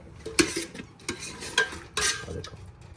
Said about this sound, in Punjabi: ਤੜਕੇ ਦੇ ਵਿੱਚ ਪਾਤਾ ਸਾਗ